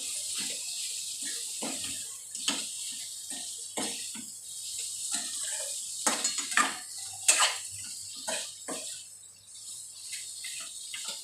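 Boiled potatoes stir-fried in a pan, with repeated scraping and clattering of a spatula against metal in an irregular rhythm, close and moderately quiet, no speech.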